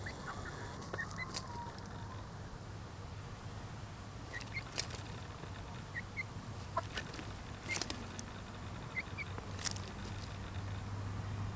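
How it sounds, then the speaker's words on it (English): Free-ranging backyard chickens cluck and murmur softly at a distance in an urban permaculture garden, with scattered sharper calls over a low steady background hum. "Two chickens exploring."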